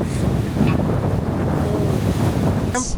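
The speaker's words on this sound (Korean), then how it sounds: "와, 파도 엄청나다." Heavy ocean waves slosh and churn continuously beside a water shuttle boat heading out to Stanley Island, mixed with strong wind rumble on the microphone.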